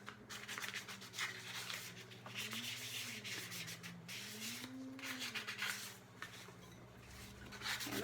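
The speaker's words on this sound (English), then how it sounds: "now's a good time to sand that rim down too" Steady hand sanding of a piece's rim, a soft continuous rasping rub with small rhythmic shifts in pressure, close but quiet, with no voices.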